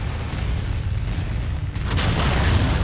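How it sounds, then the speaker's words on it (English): LRM missiles pound an enemy mech in MechWarrior 5: Mercenaries, a dense, heavy rumble of impacts. It swells louder toward the end and plays alone, with no talk over it. "Now we can waste some LRMs to shoot that guy while he approaches"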